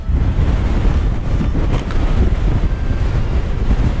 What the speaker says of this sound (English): the wind's picked up again